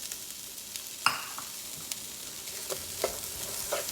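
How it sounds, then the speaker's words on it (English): Onion and leek cooking in bacon fat in a pan, giving a soft, steady sizzle broken by a few light clicks and scrapes of stirring, heard close and fairly quiet with no voices. "I'm going to put in my onion and my leek. And we're just going to cook this in the bacon fat"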